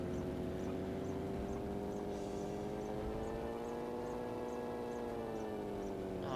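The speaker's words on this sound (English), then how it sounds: "Oh, that's a nice engine sound." A tank engine in a video game drones steadily with a low, harmonic-rich rumble that slowly shifts pitch, loud and continuous, with a faint regular ticking above it.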